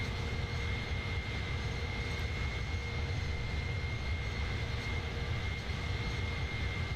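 Engines of the iniBuilds A310 airliner in Microsoft Flight Simulator, a steady, even cabin-like roar with a faint high whine, continuous and unchanging, no voices.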